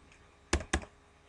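Two quick keystrokes on a computer keyboard while typing an XPath query, sharp close clicks against a quiet background.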